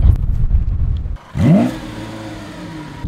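Lamborghini pulling away from a standstill, its engine rising in a loud, close revving sweep after a brief lull, then settling into a steady drone as the car moves off.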